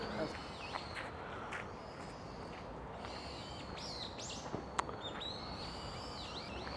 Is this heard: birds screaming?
yes